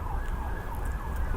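Emergency vehicle sirens wail steadily in the distance outdoors at night near a graveyard, a faint continuous tone over low rumbling background noise, with no talking.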